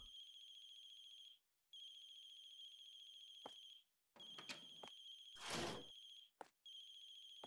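A telephone rings in the game Dream Job: Barista, a steady electronic ringtone repeating in long bursts with short gaps, joined midway by a few clunks and a loud rushing burst, with no talk.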